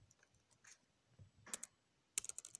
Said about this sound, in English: So let me actually type in the password.